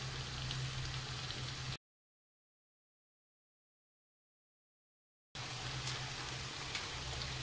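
Mutton masala sizzling in oil in a pan for a Bihari-style mutton curry, a steady soft crackle and bubble with a faint low hum, interrupted by a stretch of complete silence before resuming.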